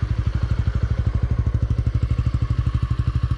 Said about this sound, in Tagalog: kung ano yung review sa makina same lang yung tunog niya nung kakasindi lang tsaka ngayon walang nagbagong tunog